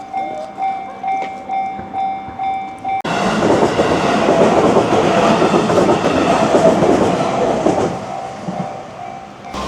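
A train runs along the tracks in Arashiyama, Kyoto, rumbling loud and close for several seconds, then fading out, after a quieter stretch of outdoor ambience with a steady tone.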